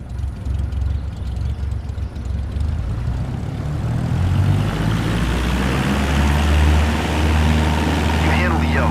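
Propeller aircraft engine in Microsoft Flight Simulator runs up to full takeoff power, a loud steady drone that rises in pitch and intensity as the plane starts rolling down the runway.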